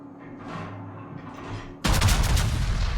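In World of Warships, the battleship Missouri fires a salvo: after a quieter stretch of low rumble, a sudden, loud, booming blast of gunfire hits and rolls on with heavy rumbling.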